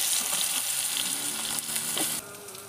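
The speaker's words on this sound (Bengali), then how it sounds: "এবার কাঁচকলাগুলোকে ওই আলুর মতো করে ভেজে নেব।" Green plantain pieces frying in oil on a clay wood-fired stove, giving a bright, close, steady sizzle with light crackles and a few stirring knocks before it drops quieter at the end.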